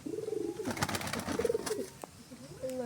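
Pigeons coo repeatedly close by in soft, throaty, rolling calls, with some rustling and a sharp tap among them; no talking is heard.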